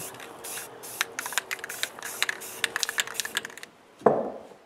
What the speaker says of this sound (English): When it's perfect, I spray some paint on it.